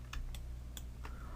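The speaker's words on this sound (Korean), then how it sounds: "Alt D키를 눌러서" Two quick computer keyboard key presses for the Alt+D shortcut in Cinema 4D, crisp close clicks with a short gap between them, followed by two more taps, over a steady low background hum.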